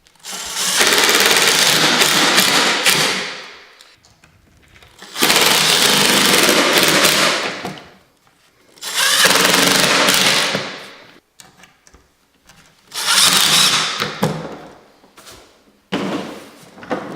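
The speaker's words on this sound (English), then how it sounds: "now it's just time to drill the screws." Four bursts of a power drill driving screws, each running about three seconds with short pauses between, close and loud with no talking.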